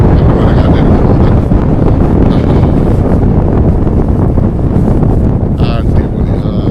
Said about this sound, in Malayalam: നല്ലപോലെ കാറ്റടിക്കുന്നുണ്ട്.